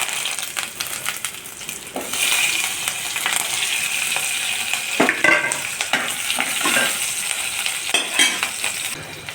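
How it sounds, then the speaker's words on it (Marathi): Cumin seeds, green chillies and curry leaves sizzle and crackle loudly in hot oil in a pan, a steady frying hiss with sharper pops and spattering bursts, no voices. "तेल चांगले तापले, आता आपण त्यात जिरा टाकून घेऊया। मिरची, कढीपत्ता"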